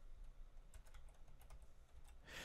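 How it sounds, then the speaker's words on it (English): Typing on a computer keyboard tucked behind a MIDI keyboard: quick, quiet, irregular key clicks close by, with a short burst of louder clatter at the end. "I have my typing keyboard behind my MIDI keyboard, so it's a bit clumsy to type right now."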